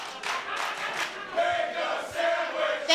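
Wrestling event crowd cheering and shouting in a continuous roar, rising in bursts, fairly distant and filling the whole moment.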